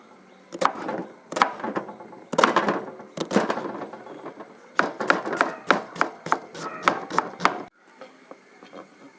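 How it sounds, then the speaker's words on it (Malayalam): Knife chopping onions on a wooden cutting board in a home kitchen: rapid, close, crisp bursts of repeated chops with brief pauses between runs, no talking. "സവാളയൊന്ന് കട്ട് ചെയ്തെടുക്കണം"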